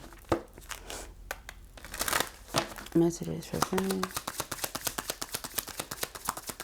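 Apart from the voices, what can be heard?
shuffling a deck of cards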